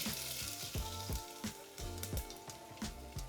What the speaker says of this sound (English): Splutter a teaspoon of mustard seeds.